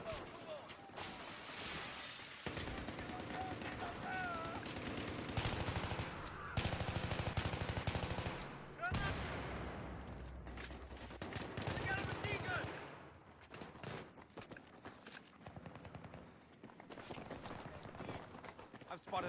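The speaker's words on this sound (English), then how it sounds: "I've spotted a hostile machine gunner in your AO." Rapid bursts of automatic gunfire and sharp impacts from a Battlefield 3 match on Xbox 360, arriving in loud clusters with brief pauses between them, then thinning out toward the end.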